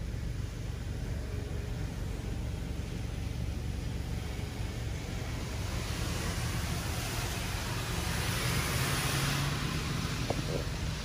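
A Belanger Saber car wash machine runs at a Shell station, giving a steady broadband hiss and low rumble of spraying and motors that holds constant throughout, with no voices.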